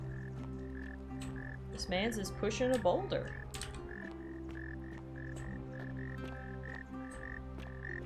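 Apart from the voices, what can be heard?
frogs croaking in the video game The Forgotten City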